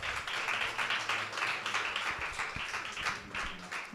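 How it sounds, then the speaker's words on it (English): An audience at the SIBF 2019 event claps to welcome Lisa Ray, a dense, steady patter of applause that rises and falls slightly across the moment. "A very loud applause for Lisa Ray."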